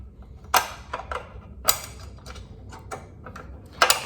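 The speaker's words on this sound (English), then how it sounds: "I'm getting the wrench." Wrench working on bolts of a Ducati Panigale 1199 under repair, a close series of sharp metallic ratchet clicks and taps at an irregular rhythm.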